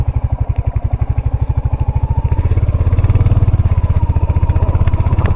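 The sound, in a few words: Royal Enfield Hunter 350 motorcycle engine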